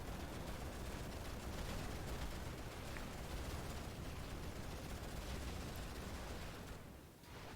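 Gunfire and mortar fire in the Rise of the Reds real-time strategy game, a steady dense rumble of distant shooting and blasts running continuously, fairly faint and without talk.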